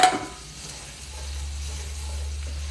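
Chopped onions dropped into a hot pan for a chicken and rice dish give a brief clatter and then a soft, steady sizzle close by, with no talk over it.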